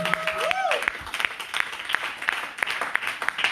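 A church congregation claps in uneven bursts at a worship service, sharp close hand claps over a bed of crowd noise, with a brief tonal cry or whistle early on.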